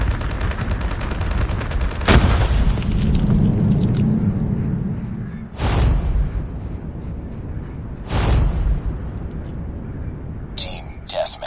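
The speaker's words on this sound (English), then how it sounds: "Semtex out!" Semtex grenade explosions and gunfire in a Call of Duty Mobile Team Deathmatch, with several heavy booming blasts and rattling shots over a dense, loud battle din, and a voice speaking in between.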